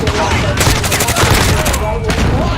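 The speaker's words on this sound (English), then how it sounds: "Enemy precision airstrike." Rapid bursts of gunfire and blasts from a Call of Duty: Modern Warfare airstrike on the Shipment map, loud and dense over a continuous game mix, with faint talk underneath.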